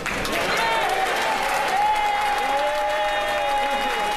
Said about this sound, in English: lots of cheering there from the people who just got rid of him